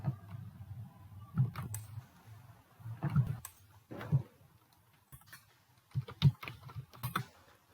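Someone types a Flutter create command into a VS Code terminal on a computer keyboard: close, uneven clusters of key clicks with short pauses between bursts.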